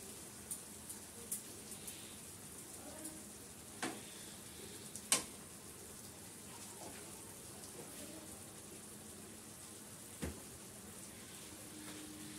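Fish frying in ghee in a pan, a faint, steady low sizzle with a few soft clinks and scrapes scattered through it.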